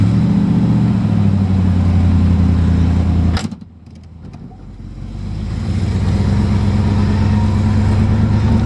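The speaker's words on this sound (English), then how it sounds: "that was another cold start you seen on video there, just fired right up and is idling nicely" A 1968 Corvette engine idles after a cold start, a steady low rumble that drops away briefly and then settles back into an even idle.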